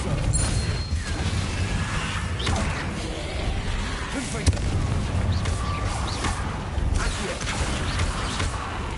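Explosive Confringo spell blasts from Hogwarts Legacy gameplay: a dense run of whooshes, crashes and mechanical rumbles over about nine seconds, loud and continuous with repeated impacts, a voice faintly present beneath.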